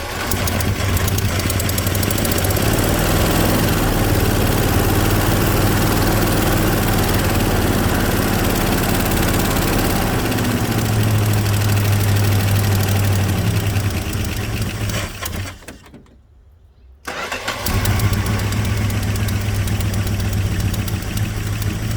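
A 1964 Plymouth Barracuda engine running just after its first start in eight years, with an exhaust leak and the choke flap still shut: a loud, steady rough idle with a low drone, briefly dropping out near the end before resuming.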